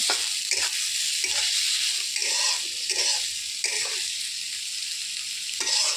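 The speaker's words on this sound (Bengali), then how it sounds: "পেঁয়াজ ভাজা করে দিচ্ছি।" Onions frying in a pan for a quick breakfast recipe, giving a steady close sizzle with brief stirring scrapes and clatters breaking through now and then.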